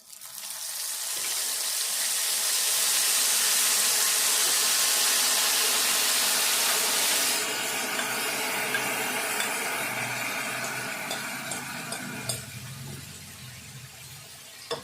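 Tamarind soup is poured into a hot tempering of spices for Telangana pulihora and stirred in. A loud steady sizzle and hiss rises at once, then softens into bubbling and stirring.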